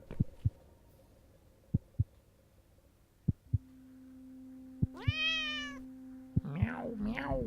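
A cat in the video game The Cat Lady meows in a rising, wavering cry amid soft electronic tones and rhythmic thumps, followed by a second, shorter meow.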